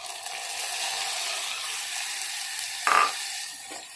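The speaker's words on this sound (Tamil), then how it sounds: "அது கூடவே சேர்த்து நல்லா வதக்கிக்கலாம்." Onions and tomato sautéing in a pan for keerai kootu give a steady broadband sizzle throughout, with a brief louder hiss and stir near the end, no talking.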